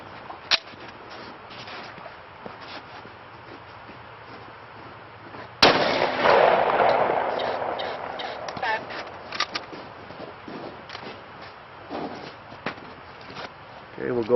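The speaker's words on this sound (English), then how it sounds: "this will be the second impact to the trauma plate shots, and the chronograph measuring velocity of the 45 ACP BMT CQB round" A single sharp, loud shot from a Glock 21 firing a .45 ACP round into a body armor trauma plate cracks outdoors, followed by a fading echo, with brief footsteps and faint ambient noise around it.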